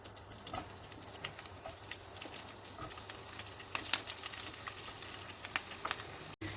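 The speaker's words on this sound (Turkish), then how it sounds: "Şimdi biberlerimizi kızartmaya başlıyoruz." Steady sizzling and crackling of peppers frying in hot oil, with scattered pops and spatters throughout, close up and moderately quiet.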